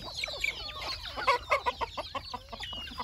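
Several native country chickens cluck and chatter softly in a busy, overlapping flock on open land, with short sharp notes scattered throughout.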